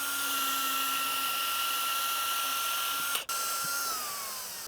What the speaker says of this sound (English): Let's drill this hole out and then bolt them onto the tailgate.